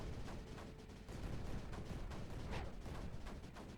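Mortars fire in the strategy game Creeper World 4, a steady wash of dense, overlapping booms and rumbling blasts running throughout at a constant loud level with no pauses.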